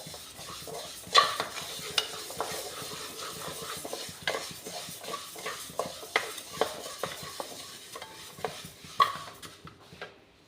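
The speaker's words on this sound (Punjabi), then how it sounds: "ਆਪਾਂ ਕੜਾਈ ਦੇ ਵਿੱਚ ਜੀ ਇੱਕ ਚਮਚ ਦੇਸੀ ਘਿਓ ਦਾ ਐਡ ਕਰ ਲਿਆ ਵਿੱਚ ਪਾਤੀ ਆਪਾਂ ਭੁੰਨੀ ਹੋਈ ਮੂੰਗ ਦਾਲ" Roasted moong dal is stirred in desi ghee in a wok, with repeated sharp clinks and scrapes of a spoon against the metal over a light, steady sizzle, close up and without talking.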